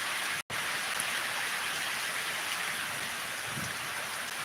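Rain pours down in a continuous, uniform wash of hiss with no voices, steady and close for the whole stretch.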